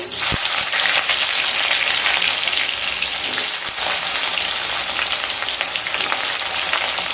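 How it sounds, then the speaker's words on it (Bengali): Bitter gourds, four medium-sized, fry in hot oil with a steady, dense sizzle and crackle that stays loud and even throughout, with no voices. "এবার ওই তেলের মধ্যে উচ্ছেগুলোকে ভেজে নেব।"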